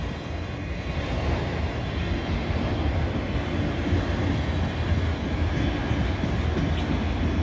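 A westbound freight train rolls past with a steady, loud rumble that stays constant from start to finish, with no talk heard.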